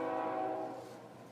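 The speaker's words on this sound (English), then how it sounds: "Stupid train." A passing train's horn blares loud and sustained, then trails off and fades as the train moves away, with no voices.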